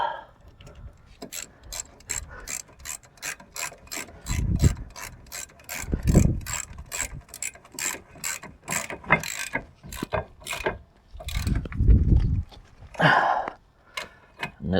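A ratchet tightens the brake calliper bolts on a Mazda MX5 NC, giving rapid runs of crisp clicking pawl ticks close up, broken by short pauses and soft knocks.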